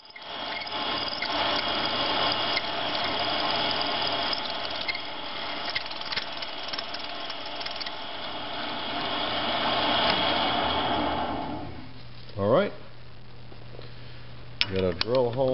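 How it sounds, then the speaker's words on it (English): A milling machine drills a hole, with a continuous loud whirring, squealing drone that runs steadily and then stops, followed by a few short rising whines as the spindle changes. "Let's drill this hole and tap this hole to mount"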